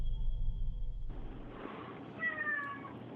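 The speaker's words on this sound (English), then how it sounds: "Oh, that's a cat?" A cat meows in dim ghost-hunt footage, a few rising tonal cries late in the clip over a steady low hum and background noise.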